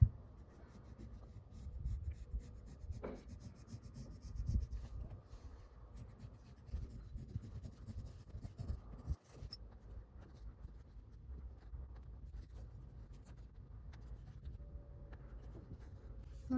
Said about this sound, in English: I'm gonna draw with a pencil the line.